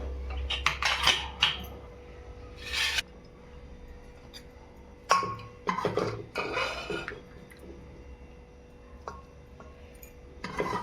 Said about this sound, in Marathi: झाकण काढते मी कुकरचं.